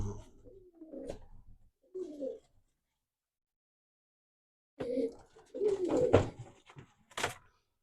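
A pigeon coos close by in several short bursts separated by brief pauses, with faint rustling between calls.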